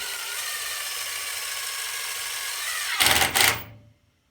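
A power drill drives a screw into wood for a spindle, giving a steady whining hum that ends in a couple of louder, grinding bursts before it cuts off.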